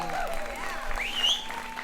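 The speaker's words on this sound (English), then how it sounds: "Can we get a round of applause for the stunning bride-to-be?" A crowd of guests at an engagement celebration applauds the bride-to-be, a steady wash of many hands clapping at moderate distance, with a few voices and a whoop-like call rising over it.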